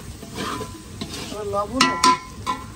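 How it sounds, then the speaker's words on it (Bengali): Spices for mung dal sautéing in a pan, a few scraping stirs and clinks of a utensil against the metal over a soft sizzle, short and close. "মুগ ডাল রান্না করার জন্য মশলা কষাইতেছে"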